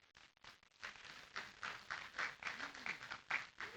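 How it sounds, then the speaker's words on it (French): An audience at a live event applauds, with scattered clapping building into sustained applause. The clapping is fairly faint and distant, and there is some background noise. "On applaudit très fort."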